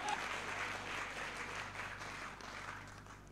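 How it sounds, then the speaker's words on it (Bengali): Brief applause from a crowd at a Bangladeshi gathering for its two hosts, a soft, steady wash of clapping held at a fairly faint level over a low background hum. "দুইজনের জন্য একটা করতালি হবে"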